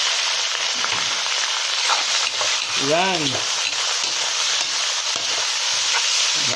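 Squid sizzling as it sautés in cooking oil for adobong pusit, a loud, steady crackling hiss throughout, with a person speaking briefly over it.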